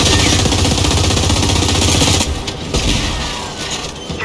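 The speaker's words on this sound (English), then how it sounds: "Now let's try using blind fire to destroy them while keeping yourself protected and covered." Rapid, loud automatic gunfire from blind-firing out of cover in Gears 5 rattles continuously for about two seconds, followed by scattered bursts and clanks as the shooting trails off.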